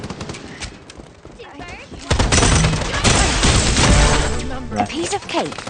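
Gunfire in the video game Strinova: a dense burst of loud, rapid shots fills the second half after quieter opening moments, with game sound effects layered throughout.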